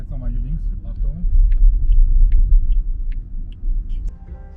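Electric NIO EC6 SUV accelerating flat out from 0 to 100 km/h, heard from inside as a steady low rumble and road noise that rises and holds for several seconds, with people talking over it.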